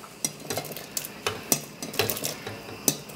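Pot of boiling beef and red potato soup being stirred, with repeated sharp clinks and knocks of a spoon against the pot over a low bubbling simmer, close by.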